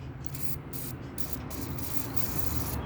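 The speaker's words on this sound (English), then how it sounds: "we're going to spray inside there with the penetrating oil" Penetrating oil sprayed from an aerosol can into a Yamaha GT80 carburetor, a soft continuous hiss broken by short pauses, quiet and close.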